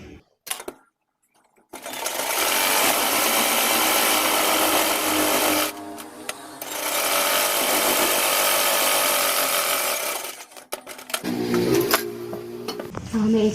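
Sewing machine stitching a seam on a boat-neck kurti, the motor whirring in two long, steady runs separated by a short pause, close and loud, followed by lighter handling noises.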